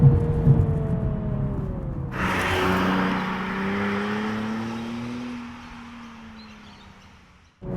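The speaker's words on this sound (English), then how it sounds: "it will automatically match the revs for you" A 2017 Nissan 370Z Nismo engine climbs in revs, then blips sharply on a rev-matched downshift and settles into a steady drone that slowly rises before cutting off.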